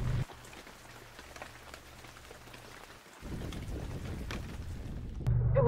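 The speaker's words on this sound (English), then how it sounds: "we're just going to let this little rain squall pass" A brief rain squall falls on a sailboat anchored in the Caribbean near Mayreau, a steady soft patter that thickens partway through and grows heavier at the end, with no talk.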